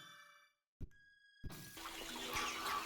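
Creek water flowing steadily in Kingdom Come Deliverance 2, a soft continuous rush that rises after a brief silence and a few short game tones, then carries on unbroken to the end.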